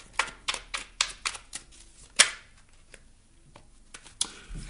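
Tarot cards being shuffled and drawn close by, with a series of sharp snapping and flicking taps in an uneven rhythm, then a quieter pause before a few more crisp card snaps.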